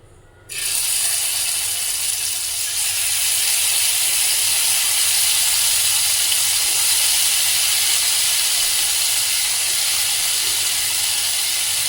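Paneer pieces dropped into hot oil over a medium flame burst into a sudden loud sizzle that holds as a steady, bright hiss for the rest of the stretch.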